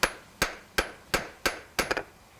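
A hammer taps stone being tested for soundness before it is made into inkstones. About six or seven sharp, ringing knocks fall at a steady pace, the last ones coming as a quick double strike, close and distinct.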